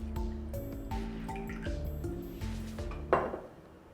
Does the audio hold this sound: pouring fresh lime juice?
yes